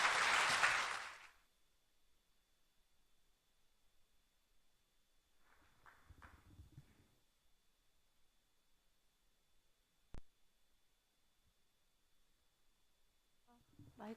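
A short burst of applause from a small audience at a Sewol ferry memorial concert opens the scene, then fades to near silence with faint murmuring voices and a single sharp click.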